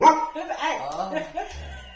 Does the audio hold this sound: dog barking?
yes